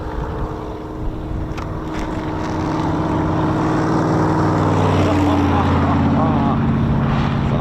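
A Supermarine Spitfire PR aircraft at RAF Coningsby with the Battle of Britain Memorial Flight, its piston engine drone swelling from moderate to loud and steady as it passes, with a voice talking near the start.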